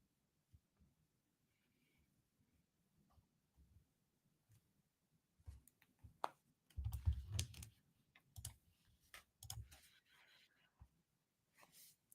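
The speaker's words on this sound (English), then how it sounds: "I keep forgetting to mute myself before I start typing on the keyboard" Typing on a computer keyboard close to a microphone: scattered quiet taps at first, then bursts of heavier, rapid clacking keystrokes in irregular clusters, with faint voice sounds in the background.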